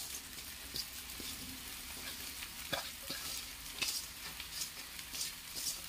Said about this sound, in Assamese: এতিয়া ইয়াত মই দি দিছোঁ বইল কৰি থোৱা চাওমিনখিনি।